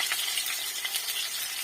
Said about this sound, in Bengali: আলুটাকে হালকা করে তোমরা যদি একটু হালকা করে ভেজে নাও